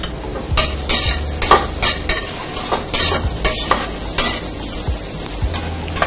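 Onion sizzles loudly in hot oil at the start of vegetable fried rice, with a constant crackling hiss and a series of sharp spatula scrapes and knocks against the pan, close and alone.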